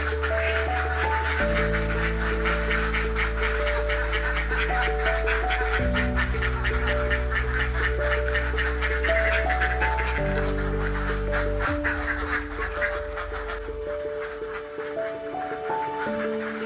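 A large flock of laying ducks quacking on a duck farm, a dense continuous chorus of overlapping nasal quacks with a steady low machine hum underneath, loud and close throughout.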